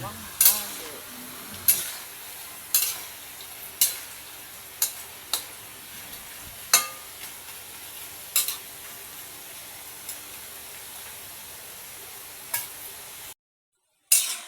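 French fries frying in hot oil: a steady low sizzle and crackle throughout, with repeated sharp clicks and scrapes as the fries are stirred and turned, no voices.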